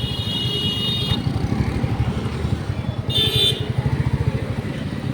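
A Royal Enfield Bullet motorcycle rides through morning traffic, its single-cylinder engine giving a close, steady low thumping beat throughout, with brief high tones from nearby vehicle horns in the traffic.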